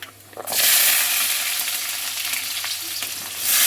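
Small shallots drop into hot oil in a pan for garlic pepper chicken, bursting into a loud, close, steady sizzle that carries on with faint stirring and no voices.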